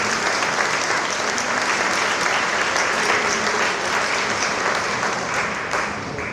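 Sustained applause from a concert band cabaret audience, dense and loud close clapping that carries on evenly before tapering slightly at the end.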